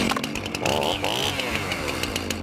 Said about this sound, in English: My chainsaw's ready to rip up some regulations.